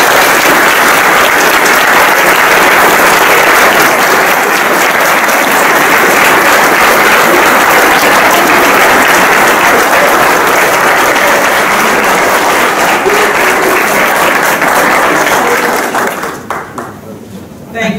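An audience at an ACLU of Northern California Bill of Rights Day event gives loud, dense applause that holds steady for about sixteen seconds before dying away into quiet.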